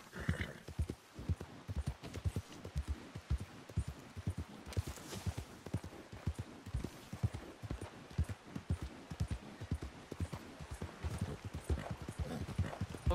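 Horse hooves clip-clop at a steady running pace in Red Dead Redemption 2 near the town of Strawberry, the rhythmic beats loud and continuous throughout with a brief whinny early on.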